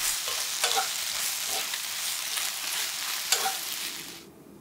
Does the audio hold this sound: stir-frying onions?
yes